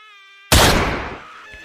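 A girl with a burned face lets out a sudden loud scream in a horror story, bursting in after a faint tonal hum and trailing off over about a second, with no talk.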